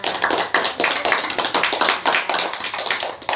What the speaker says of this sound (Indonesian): Tepuk tangan untuk kita semua untuk gamenya.